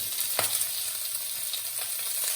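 Food sizzles in a frying pan with a steady bright hiss while a utensil stirs it, giving occasional soft scrapes and taps; no one speaks.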